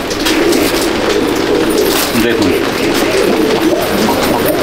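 A flock of Madrasi pigeons coos in a loud, continuous overlapping murmur close by, while someone speaks briefly over the birds.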